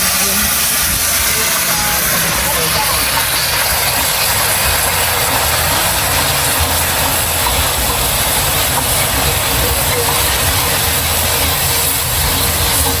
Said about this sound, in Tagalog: At sunog na po itong ating asukal. Lalagyan na po natin ng kaunting tubig.